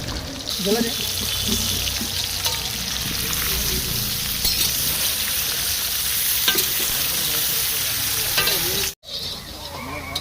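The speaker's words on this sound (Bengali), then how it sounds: "আমাদের ডালের সঙ্গে যে আলু ভাজা হবে" Potatoes fry in oil in a wok and are stirred with a ladle, giving a steady loud sizzle with scraping stirs throughout, broken by a brief silence near the end.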